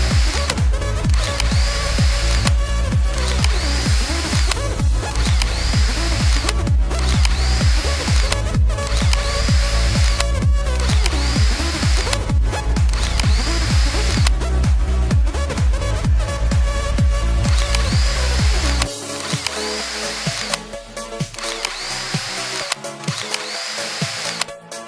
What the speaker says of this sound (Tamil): அங்கே உங்கள் கையில் ட்ரில்லிங் மிஷின் இருந்தால் ஹோல்ஸ் போடுறது யூஸ் பண்ணுங்கள்